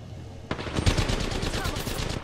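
In a battle royale video game, gunfire crackles from behind in a sudden burst of rapid shots. A dense, loud volley starts abruptly and rattles on steadily to the end, and nobody speaks over it.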